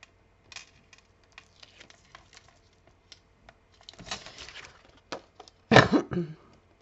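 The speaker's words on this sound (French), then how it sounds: "je vais enlever mon scotch double face" Double-sided tape being peeled off paper during card making: sparse light ticks and crinkles, then a longer rasping strip and a loud close tearing peel near the end.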